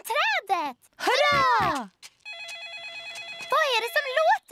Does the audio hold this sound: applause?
no